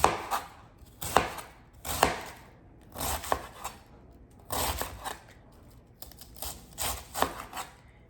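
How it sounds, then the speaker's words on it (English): A knife chops food on a board while a cowboy steak meal is prepared, with irregular bursts of strokes in quick clusters, close and moderately loud with no talking. "I don't have the best chopping skills because I don't like to chop."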